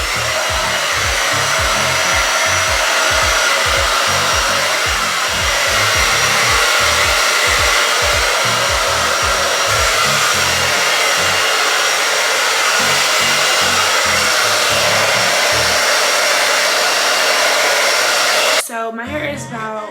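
A hair dryer blows continuously and loudly while curly hair is dried, its steady airy roar overlaid with rhythmic thumps from the hair being handled, cutting off abruptly near the end.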